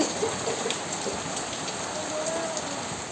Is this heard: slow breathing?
no